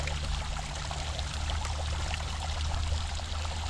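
Water flowing steadily from a natural spring in Kisii County, a continuous close, broadband rush and trickle without pause.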